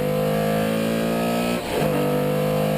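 A Porsche 917K race car engine drones loudly from inside the car, holding a steady high pitch, then dips briefly during a gear change before climbing again.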